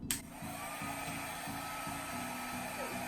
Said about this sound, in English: this little hair dryer has a lot of power